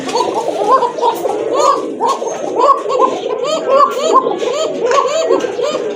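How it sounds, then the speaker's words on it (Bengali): Pigeons, a male and a female, cooing continuously nearby in overlapping throaty calls, with voices faintly mixed in. "এটা নর কবুতর এটা মাদি কবুতর"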